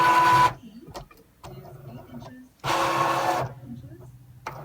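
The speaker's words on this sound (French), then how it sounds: "Et c'est malheureusement bruyant quand même." A Cricut cutting machine prints and cuts paper, loud mechanical whirring bursts alternating with quieter carriage movements and clicks, while a person talks between the noisy passes.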